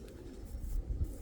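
A small blue checker Tippler pigeon hen gives a couple of soft, low coos close by, with a faint rustle between them.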